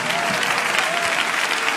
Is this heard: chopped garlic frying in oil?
no